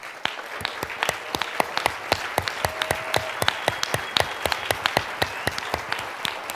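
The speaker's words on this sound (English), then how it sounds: "if you would be willing to stand up so we can give you one more round of applause for all the support that you have provided" Audience applause for sponsors at a university startup accelerator demo day and award ceremony, a fairly quiet room of clapping with distinct, close individual claps standing out in a loose rhythm.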